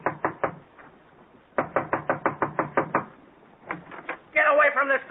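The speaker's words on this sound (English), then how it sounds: "I'll knock on the door." Knocking on an apartment door as a sound effect in a 1944 radio comedy: crisp raps in quick bursts of three and then longer runs, close and clear, with a voice breaking in at the end.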